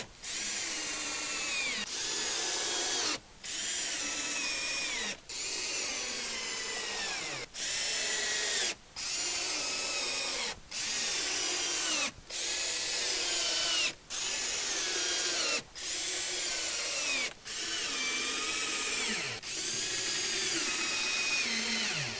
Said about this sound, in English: take our stainless screws in here, screw the braces to the plywood